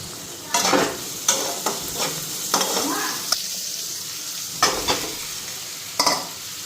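A spoon stirs and scrapes salted boiled potatoes in a cooking pot while they are mashed, over a low frying sizzle. Rhythmic scraping strokes with sharp knocks against the pot, close and clear, no talking.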